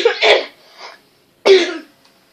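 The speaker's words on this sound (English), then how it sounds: "I'm sorry if I'm coughing" Two harsh coughs from someone with a bad cold, close and loud, separated by a brief pause, the first with a short rough follow-up.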